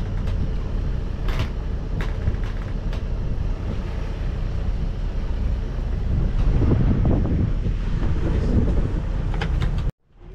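Light wind rushes and buffets the microphone aboard a sailboat under sail, with water washing against the hull, a continuous, fairly loud roar that swells in the middle and cuts off abruptly at the end.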